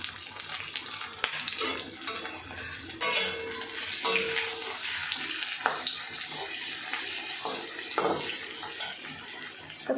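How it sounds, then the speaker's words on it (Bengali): Fish frying with onions in a pan, a continuous crackling sizzle with occasional spattering bursts and light stirring clatter, close and steady throughout without speech. "প্রায় আমার মাছ ভাজা হয়ে গেছে"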